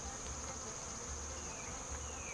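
Honeybees buzz steadily and close by during a hive inspection in a bee barn, a small swarm built up in the hive, giving a continuous insect hum with no talk.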